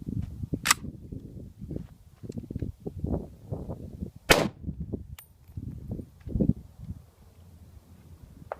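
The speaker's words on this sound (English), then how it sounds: "I'm going to go ahead and chamber one round, fire it" A DPMS G2 AP4 rifle fires a single round, a sharp loud crack standing out among quieter handling clicks and rustles, with a second similar sharp report shortly after.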